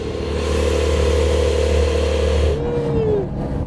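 Porsche car engine roaring loud and steady nearby, then the pitch sweeps up as the revs climb and drop away near the end, with a faint voice underneath.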